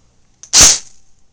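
Single sharp crack of an airsoft BB fired at point blank range into metal mesh goggles, a brief loud snap with a short fading ring, heard alone.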